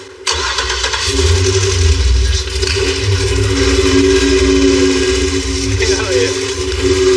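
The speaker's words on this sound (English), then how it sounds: "That engine sounds so bad." A Cadillac engine, newly fitted with replacement valve covers, cranks and fires up, then settles into a loud, rough, continuous idle that runs steadily to the end, close to the listener.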